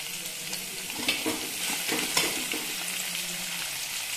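Onions frying in oil with urad dal, a steady soft sizzle with occasional stirring scrapes, close and alone, for a semolina upma.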